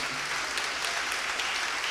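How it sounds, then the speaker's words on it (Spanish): A church congregation applauds steadily, a dense, even wash of clapping that holds at the same level from start to finish with no talking over it. "Dele un aplauso a la palabra de Dios."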